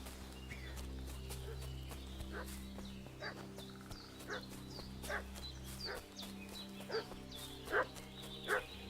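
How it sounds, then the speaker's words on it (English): A dog in the video game Kingdom Come: Deliverance II barks in a series of sharp, spaced outbursts over a steady low hum, with the last barks louder and closer. "What's that dog making such a fuss about?"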